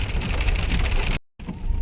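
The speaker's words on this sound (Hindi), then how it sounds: "बारिश थोड़ा सा स्लो हुई है।" Heavy rain falls steadily on surfaces in bad weather at night, a loud dense patter that cuts out abruptly for a moment before resuming.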